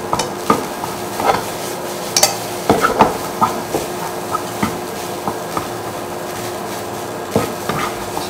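Rice for char siu egg fried rice being stir-fried and pressed apart in a wok, with steady sizzling under repeated sharp scrapes and clacks of the utensil against the pan at an irregular rhythm, close and clear, without talk.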